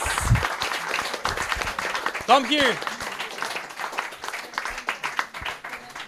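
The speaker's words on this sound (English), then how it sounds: "So a big applause for Crosslights!" Scattered applause rises from an event audience as a winning team is cheered, with people talking and calling out over the clapping and a brief whistle-like voice sweep partway through.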